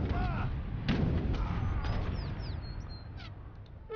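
Cannon and artillery fire rumbles through a busy Age of Empires 3 campaign battle, with booming thumps and a steady low din of combat under scattered bird-like calls and effects.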